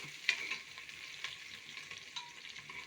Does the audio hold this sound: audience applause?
no